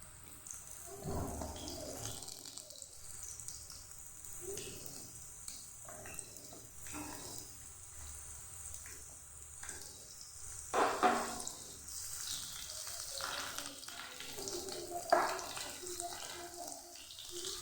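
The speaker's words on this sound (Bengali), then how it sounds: "ওলটাকে ভেজে নেব।" Boiled yam frying lightly in hot oil in a pan, for a Bengali fish curry: a soft, steady sizzle with occasional scrapes and stirring clatter, fairly quiet and close.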